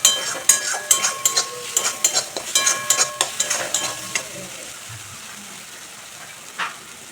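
Spices for a prawn malai curry being sautéed and stirred in a pan, with a rapid run of sharp spatula scrapes and clinks over a soft sizzle that fades to quiet, then one last scrape.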